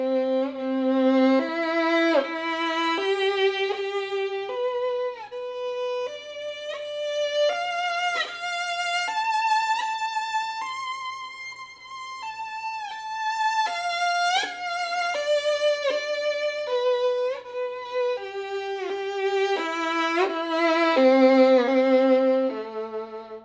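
Solo violin playing a slow melodic line, each bowed note swelling from soft to loud and fading back, the melody rising and falling clearly and alone without talking.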